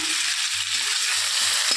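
Two shrimp sizzle and crackle in hot oil in a pan, a steady close frying hiss with faint stirring underneath and no talking.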